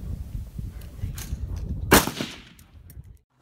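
A single sharp, loud gunshot bang rings out at an indoor gun range over a rumbling background, followed by a short echoing decay and then silence.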